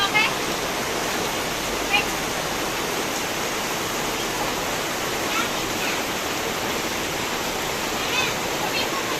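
A steady, loud rush of flowing flood water fills the scene continuously, broad and noisy like a strong current, with no voices standing out.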